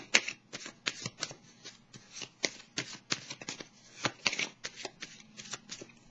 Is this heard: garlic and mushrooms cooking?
no